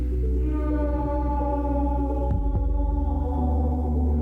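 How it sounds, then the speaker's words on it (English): Deep, droning whale-like calls in a War Z game trailer, sustained tonal moans with layered harmonics, one sliding downward, and a low pulsing throb near the end. "There's whales in my head."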